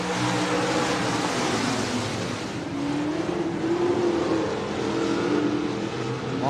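Stock cars racing on an oval track at Buena Vista Raceway, their engines a continuous, dense roar that holds steady throughout with no voices.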